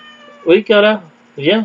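A house cat meows a few times up close, loud drawn-out cries separated by short pauses, while a person speaks briefly in French.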